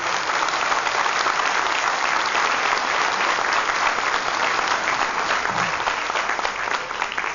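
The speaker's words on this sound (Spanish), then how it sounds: "Un aplauso a los jóvenes de México." Audience at a Mexican political speech by a legislator breaks into sustained applause, dense and even clapping from many people holding at a steady volume throughout.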